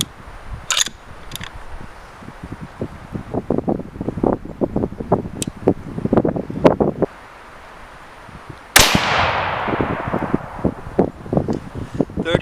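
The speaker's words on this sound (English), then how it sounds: "Alright, might as well fire the last one." A .22 Creedmoor rifle firing a 77-grain Sierra MatchKing handload outdoors: one loud, sharp shot with a long decaying echo, preceded by wind noise, rustling and handling clicks; no talking.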